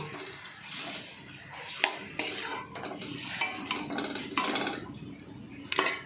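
A spoon scrapes and clatters against a pot while shrimp and sanchi greens are stirred and mixed together, irregular close metallic scrapes and knocks over a faint cooking hiss.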